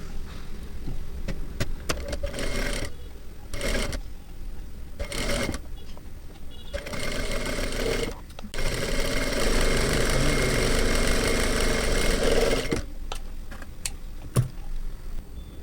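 A sewing machine stitches blouse fabric in steady, fast runs, close and fairly loud. The runs stop and restart several times, then one longer continuous run of stitching is heard, with no voices over it.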